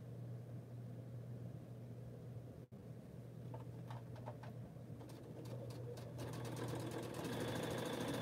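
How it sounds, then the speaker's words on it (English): A sewing machine runs during quilting at home, a faint steady hum with a light rapid stitching rattle that grows a little busier toward the end, with a sharp click partway through. "I'm just here doing some sewing"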